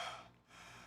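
A voice imitates open-mouthed breathing as one short, raspy, gasping inhale and exhale, close and fairly quiet.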